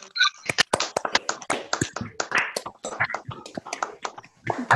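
Scattered applause from an online audience over a video call: many sharp, overlapping claps and taps arrive in an irregular patter at moderate loudness, with no talking.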